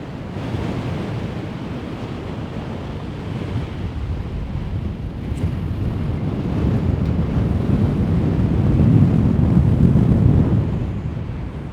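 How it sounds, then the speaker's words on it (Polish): Strong, gusty wind on the Karwendel mountain summit near Mittenwald roars across the microphone in a low rumble, swelling louder near the end before easing, with no voices. "bo bardzo tutaj wieje wiatr."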